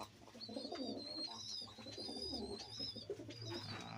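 Lokka fantail pigeons coo softly nearby in a low, rolling murmur, with faint higher chirps above it.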